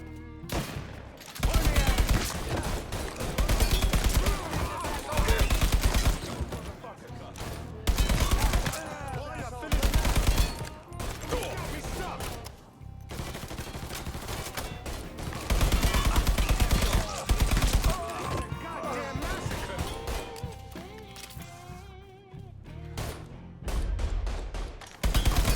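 Gunfire in the video game Mafia III, with loud repeated bursts of rapid shots and heavy blasts in clusters across the whole stretch, separated by brief quieter gaps with a voice talking.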